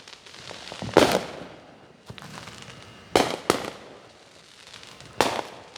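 Fourth of July fireworks at GRRF burst outdoors at a moderate distance, with four or five sharp cracks and pops spread irregularly and crackling tails trailing after each, over faint background noise.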